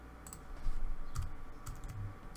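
Several quick keystrokes on a computer keyboard enter an AutoCAD command during kitchen design work, with a few close, light clicks and taps in a short burst.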